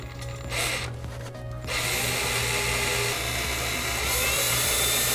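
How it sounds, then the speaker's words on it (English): A power drill with a bit boring holes into the eyes of a garden gnome, a close, continuous whirring and grinding that grows louder and steadier partway through, with no talking. "You want to make sure that your drill bit doesn't walk."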